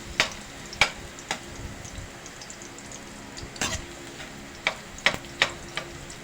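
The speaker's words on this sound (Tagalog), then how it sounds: "Siyempre, uh, igigisa natin para lumabas yung kanyang uh, ah, umami." Garlic sautés in a pan for ginisang sardinas, with a soft sizzle under sharp, scattered utensil clicks and scrapes against the pan.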